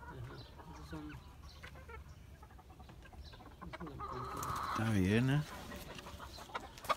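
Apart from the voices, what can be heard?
Nagasaki and kikiriki roosters and hens clucking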